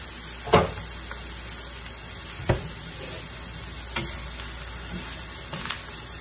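Meat pie filling with Worcestershire sauce fries in a pan with a steady, close sizzle, while a few sharp scrapes and clacks mark it being stirred.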